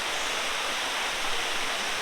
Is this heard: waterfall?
yes